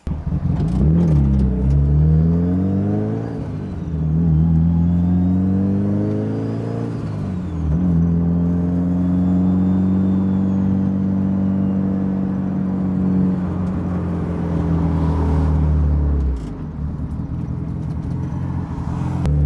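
A Mitsubishi Evo engine revs up repeatedly during vacuum pulls on neighborhood streets, its pitch climbing and dropping through several strong pulls, loud and close with steady road rumble underneath.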